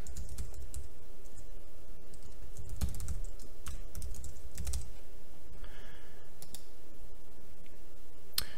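Rapid clicking of keys on a computer keyboard as an email address is typed, steady and close over low background hum, with a few louder taps scattered through.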